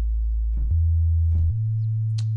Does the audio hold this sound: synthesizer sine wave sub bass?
yes